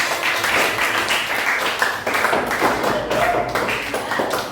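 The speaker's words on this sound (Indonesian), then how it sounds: "Tepuk tangan." Students in a classroom clap their hands, a brisk, uneven burst of close claps sustained throughout with a faint voice underneath.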